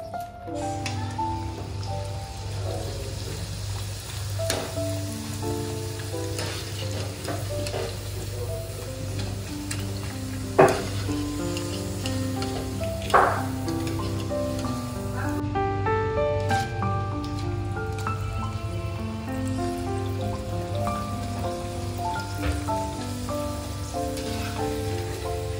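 Grated potato shreds frying in hot oil, a steady, even crackle and bubble that runs on through the whole stretch with a few brief sharper pops, and no one talking.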